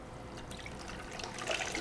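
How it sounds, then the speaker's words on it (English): Coconut water poured from an opened coconut gives a soft, faint trickling splash that runs continuously for a couple of seconds, with no talking. "we're going to go ahead and pour this water in here"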